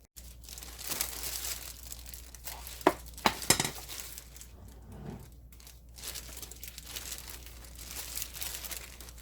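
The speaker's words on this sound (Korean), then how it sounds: "양념 넣고 치대 들어갈게요." Hands work seasoning paste into young radish kimchi, making close wet squelching, crinkling and slapping sounds with a few sharper knocks against the bowl, uneven and busy throughout.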